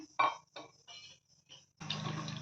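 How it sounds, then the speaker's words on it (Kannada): Hibiscus leaves are rinsed by hand in water, giving short splashes and sloshes in separate bursts, then a fuller continuous pour of water near the end, close and fairly quiet. "ಈ ಥರ ನೀಟಾಗಿ ತೊಳಿಬೇಕು."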